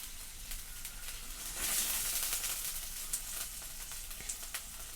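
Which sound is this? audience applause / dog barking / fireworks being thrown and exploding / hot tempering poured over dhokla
hot tempering poured over dhokla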